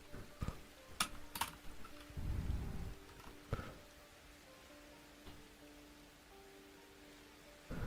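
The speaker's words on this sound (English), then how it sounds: "The little typing sounds." Faint computer keyboard typing comes as a few scattered, soft clicks with short pauses between them over a quiet background.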